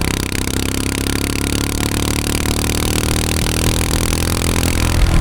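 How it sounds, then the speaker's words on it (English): A loud motorcycle engine runs steadily close to the mic, its revs holding high and rising slightly toward the end, with no voices. "so you can get some glorious engine sounds"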